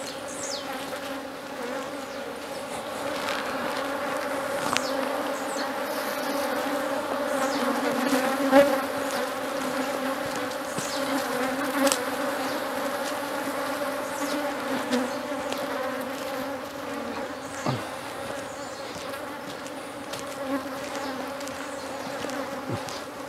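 Honeybees swarm in a steady, dense buzz around an apiary hive being split into two colonies. The drone stays close and constant, with occasional louder passes by individual bees.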